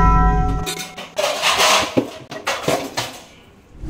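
Pots and dishes clank in a kitchen: a ringing metallic clatter at the start, then several sharp, irregular knocks and bangs close by.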